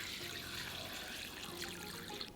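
Warm water pours steadily into a bowl of dry glass noodles, a soft continuous trickle and splash heard alone and fairly quiet.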